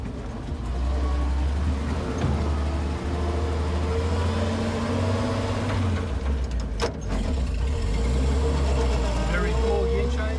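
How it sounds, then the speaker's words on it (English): A 1945 Lohner Dodge engine drones loud and steady in second gear as the vehicle crawls up a steep hill, with a voice talking over the running engine. "When we get to the bottom, I'm going to go into second and we're going to crawl up the hill."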